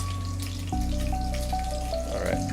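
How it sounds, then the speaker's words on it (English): Salmon fries in hot oil in a metal pan, giving a soft, steady bubbling and crackle, close and continuous, with a faint tonal hum beneath. "you want to press on it, and you want to hear the noise. You want it to bubble, but you don't want it to like sizzle"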